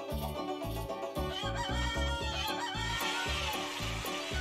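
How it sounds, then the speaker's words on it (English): Chickens crowing and clucking at the chicken festival in Story of Seasons: Friends of Mineral Town, layered over a steady, rhythmic game music track that keeps playing throughout. "release the chickens"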